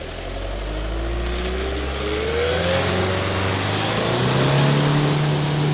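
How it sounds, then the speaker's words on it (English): A 4x4 engine revs hard and steadily as the vehicle reverses through a boggy crossing in the remote Kimberley, with a continuous loud drone whose pitch climbs over several seconds and no voices. "just rev the absolute box off it and try and reverse"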